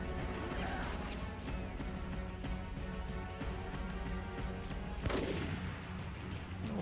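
Dense combat noise from the video game Rogue Warrior, with repeated gunshots and crashes over a constant loud background, including a sharp heavy blast near the end.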